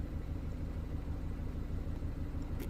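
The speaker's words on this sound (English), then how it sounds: "the engine tone just completely changed now" A BMW 116i with a misfire idles quietly, giving a low, steady rumble with a faintly uneven beat and no voices over it.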